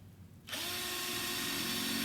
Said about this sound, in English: I'm just going to drill some holes in the bottom